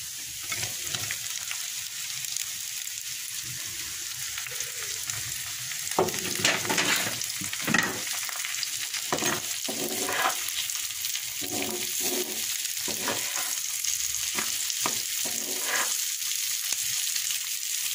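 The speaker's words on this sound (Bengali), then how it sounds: "এবার নেড়ে চেড়ে আমি রসটা একটু শুকিয়ে নেব।" Boiled teasel gourd being stir-fried in a pan with browned onion, giving a steady loud sizzle with repeated scraping stirs throughout, no voices.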